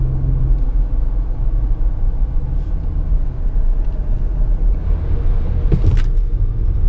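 BMW car travelling at 50 km/h on a slippery test surface at an airfield, heard as a steady low road and engine rumble, with a brief brake or tyre sound rising near the end.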